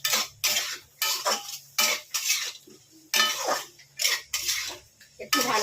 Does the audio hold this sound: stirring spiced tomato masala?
yes